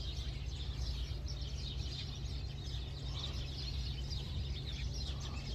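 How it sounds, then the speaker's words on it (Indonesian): A sooty-headed bulbul singing overhead in daytime, faint scattered chirps and tweets over a steady low hum of background noise, with no one talking. "Burung kutilang nih. Kedengarannya di atas kepala sih."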